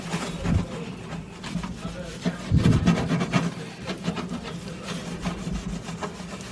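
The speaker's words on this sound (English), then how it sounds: "So I've got just a regular old dish sponge here, and I'm going to just kind of start" A regular dish sponge scrubs the inside of a kitchen microwave, giving a steady, close rasping rub with a few louder bursts of scouring.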